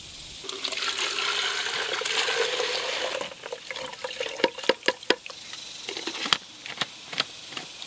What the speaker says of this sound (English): Fill it halfway up with water